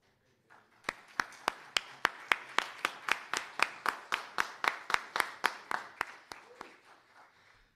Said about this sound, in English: I would like to have all of the veterans stand right now so we can give everyone a round of applause.